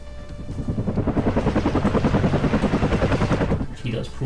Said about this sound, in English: I do notice this helicopter over here.